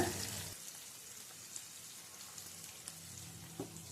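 Tomato and onion sauté in a pan with a faint, steady crackling sizzle, briefly louder at the start, then quiet with occasional small pops.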